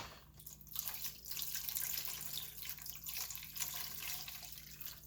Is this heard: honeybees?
no